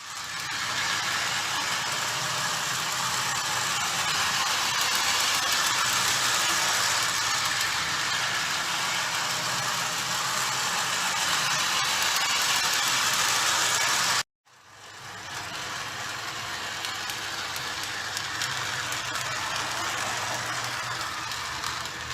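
A used Lionel GP-7 diesel model train locomotive runs with a loud, steady motor hum and rumble that cuts out for a moment, then resumes at a slightly lower level.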